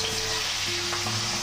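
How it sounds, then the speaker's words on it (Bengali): Katla fish rubbed with salt and turmeric frying in smoking hot oil in a kadai, giving a dense, steady, close crackling sizzle throughout with a faint hum underneath. "ফুটন্ত তেলে নুন হলুদ মাখিয়ে রাখা মাছগুলোকে ছেড়ে দিয়েছে"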